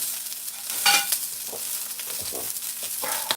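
Sausage links fry in a pan with a constant bright sizzle, broken by occasional scraping and stirring clatter from a utensil, close and steady for a few seconds.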